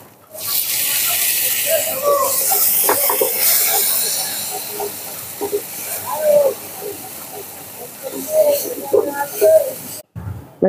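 Water poured into a hot pan of Rajasthani bhindi masala bursts into a loud hissing sizzle that slowly fades, with scattered bubbling pops and a scrape of a spoon near the end.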